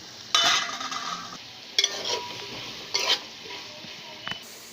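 Okra pieces are stirred into softened tomato in a pan for a ladies finger and tomato curry. Three or four short bursts of sizzling and spoon scraping stand out against a quiet background.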